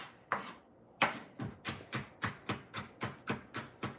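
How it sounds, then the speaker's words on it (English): Knife mincing fresh jalapenos on a cutting board in a home kitchen, a steady run of about a dozen crisp, close chopping strikes in even rhythm after two slower opening cuts, with no talking. "I might mince these down"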